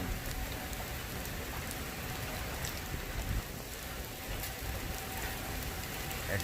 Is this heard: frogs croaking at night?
no